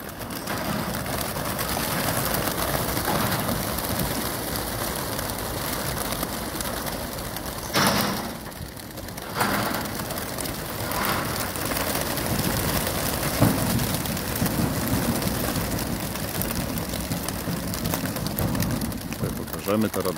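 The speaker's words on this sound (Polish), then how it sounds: "Za chwileczkę będziemy wypuszczać gołębie." Pigeons coo and flutter nearby as they are released outdoors at 6:50, amid a steady outdoor hiss, with a brief burst of wing movement partway through and faint background voices.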